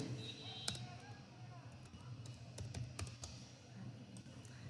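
Someone types on a computer keyboard while entering an address in an Excel spreadsheet: faint, quick key taps in short irregular runs over a steady background hum, with a voice speaking quietly at times.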